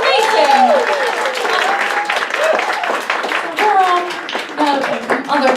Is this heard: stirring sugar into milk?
no